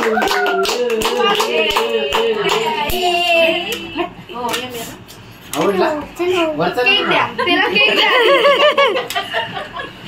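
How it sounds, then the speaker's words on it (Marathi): A small group claps at a birthday cake cutting for Adhira, the clapping mixed with chatter, giggles and laughter, and a child's cry rising near the end, all close and lively. "हे बघा केक साठी टाळ्या वाजवणारे बघ किती जण आहेत"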